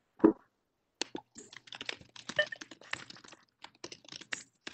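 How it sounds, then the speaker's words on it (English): Loud typing on a computer keyboard, with quick irregular clusters of sharp clicks and key taps after a single thud, close and clear against a quiet background. "Dr. Corey, I think you're typing really loud."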